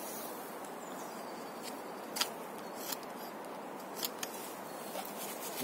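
A Leatherman Wave multitool knife blade cutting, heard as faint scraping with a few soft, sharp clicks and snips over steady background hiss.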